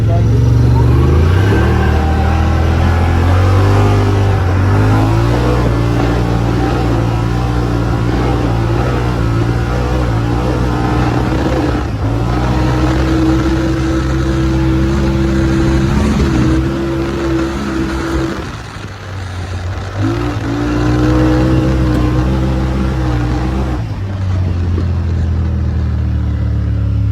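A Yamaha Rmax off-road side-by-side runs a wooded trail, its engine droning steadily with harmonic tones that rise and fall as it maneuvers over bumps, loud and close throughout.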